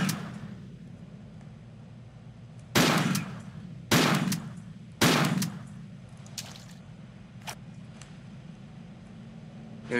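Three sharp, loud bursts of gunfire from the Tomb Raider video game, each spaced about a second apart, followed by a few fainter shots against a low steady background hum.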